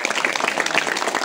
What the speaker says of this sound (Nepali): एकपटक फेरि उहाँहरूलाई चाहिँ ताली बजाएर धन्यवाद गर्नुभयो